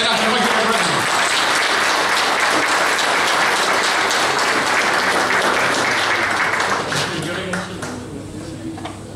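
Warm applause fills a room at a veterans' association New Year pie-cutting gathering, loud and sustained, with voices mingled in, easing off slightly toward the end.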